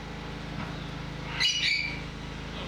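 Grey parrots in an aviary holding over 25 birds, a short burst of squawks and chirps over a steady hum of background noise, no talk.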